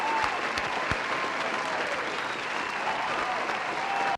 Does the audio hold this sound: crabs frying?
no